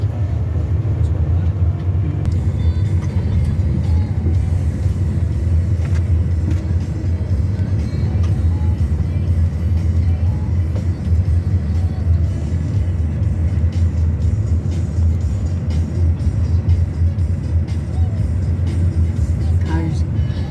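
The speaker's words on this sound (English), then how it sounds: "I just tell you there's cars." Cars drive past on a street in Grand Rapids, Michigan, in a steady, loud, continuous traffic rumble with low engine drone throughout and no clear breaks.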